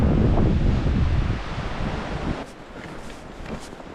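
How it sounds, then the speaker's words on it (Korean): Strong wind roars across a snowy mountain ridge on Seonjaryeong, a dense broadband rush that is loud at first and eases slightly after a couple of seconds, buffeting the microphone with no talk. "바람소리 죽인다."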